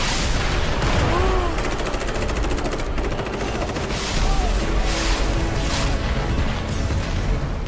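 Grenade launcher fire and explosions in Metal Gear Solid V: The Phantom Pain, a dense burst of rapid blasts and crackling gunfire rolling continuously at close range.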